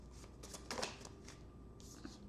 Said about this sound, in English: Let me pick two cards up here.